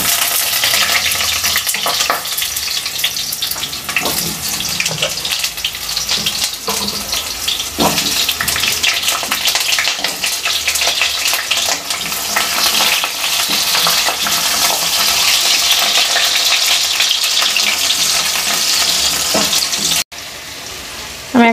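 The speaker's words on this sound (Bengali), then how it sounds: "তেলটা গরম হয়ে গেছে, এবার আমি তেলের মধ্যে আলুগুলোকে দিয়ে দিচ্ছি।" Potatoes dropped into hot mustard oil in a wok, giving a loud, continuous crackling sizzle with bursts of spatter, heard close throughout and briefly dipping near the end.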